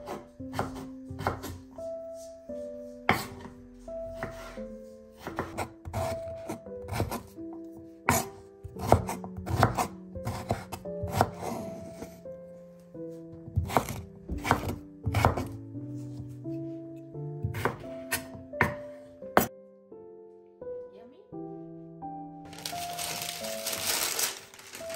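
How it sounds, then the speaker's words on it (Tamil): A knife chopping sweet potatoes into long chip-shaped sticks on a board, steady rapid thuds and crunchy cuts running throughout, close and loud, with rustling at the end. "அதை வந்து சிப்ஸ் மாதிரி கொஞ்சம் நீட்டமாகவே நான் வெட்டி கொள்கிறேன்."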